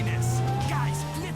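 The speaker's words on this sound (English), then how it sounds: "I thought the car sounded a lot more electric than the Fiesta did" A game car engine revving with a smooth, whining electric tone, tires squealing as it runs, with a voice talking over it, in a driving lesson game.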